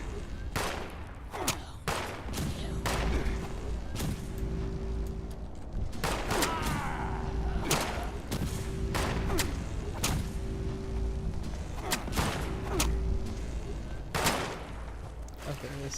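Gunfire in the video game Fallout 76: repeated sharp shots and bursts crack out across the stretch, some in quick clusters, loud and close over a steady game background, with a voice talking at times.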